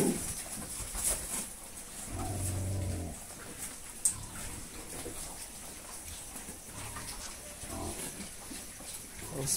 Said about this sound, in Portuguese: Todo porco que ele coloca assim junto, termina desse jeito aí. Batendo no outro, desentendendo,